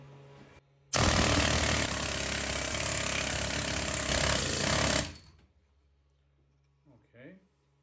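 A DIY planishing hammer pounds sheet metal in a rapid, steady, loud mechanical hammering burst lasting about four seconds, stopping abruptly; a low motor hum sits before and after, with brief talk at the end.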